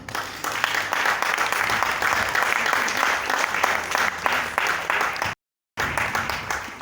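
A church congregation applauds in worship, dense sustained clapping filling the room for several seconds before a brief cut, then resuming just as loudly.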